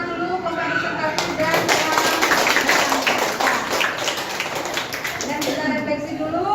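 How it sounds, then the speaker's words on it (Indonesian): Classroom of children clapping for a presentation, a burst of brisk, dense applause that starts after a teacher's voice and fades out as talking resumes, with children's voices mixed in. "Ibu kasih tepuk tangan dulu presentasi"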